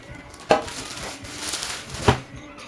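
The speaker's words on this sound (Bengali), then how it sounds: "এই যে এটা কি ঢাকনা, ঢাকনা সরিয়ে রাখি।" The lid of a new pressure cooker being lifted off and set aside: two clear metallic clacks about a second and a half apart, close by, with light handling noise between them.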